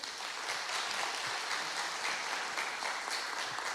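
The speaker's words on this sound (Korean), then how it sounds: "우리 하나님 앞에 영광의 박수 한번 올리겠습니다." A church congregation claps together in a steady, even wash of applause, moderately distant and without voices, through the whole short stretch.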